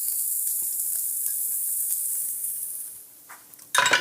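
Chopped shallot sizzling in a hot pan for a white wine sauce, a steady close hiss with a few soft stirring taps, ending in a sharp burst of louder crackle.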